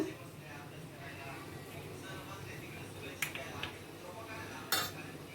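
A metal spoon stirs boiled cabbage frying in a pan with salt and spices, soft scraping and a couple of sharp clinks against the pan, fairly faint in a quiet kitchen with a person talking over it.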